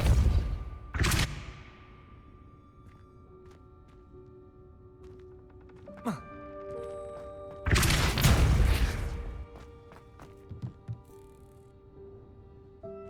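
Hogwarts Legacy spellcasting: a sharp blast at the start, then a brief swoop. A heavy, loud Depulso burst of force follows midway, with mechanical clanks and humming magical tones between the impacts.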